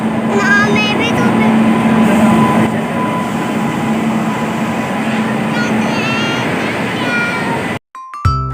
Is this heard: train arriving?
yes